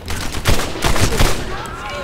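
Rapid bursts of gunfire in Medal of Honor Airborne, several sharp shots clustered loudly close together over dense battle noise.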